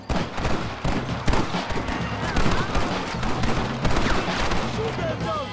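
Dense gunfire in a Red Dead Redemption gunfight against thugs, with rapid overlapping shots and sharp bangs crackling close and loud, under intermittent shouting voices.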